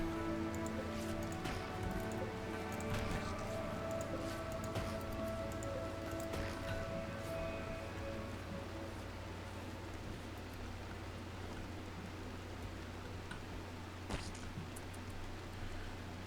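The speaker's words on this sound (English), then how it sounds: "More rain." Rain in the video game Rimworld, a faint, even patter and hiss that continues without a break for about sixteen seconds, with no voices.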